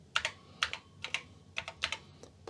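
Close, crisp clicking as a program is typed on an Apple IIe keyboard, with bursts of several keystrokes separated by brief pauses and a faint electronic hum underneath.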